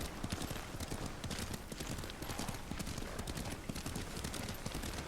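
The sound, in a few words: horse hooves clip-clop while riding, Ghost of Tsushima video game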